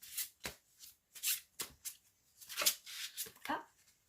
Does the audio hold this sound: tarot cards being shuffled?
yes